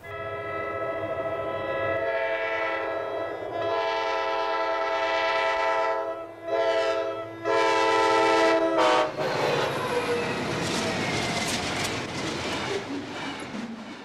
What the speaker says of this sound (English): A westbound manifest caught us by surprise as it sped over the crossing.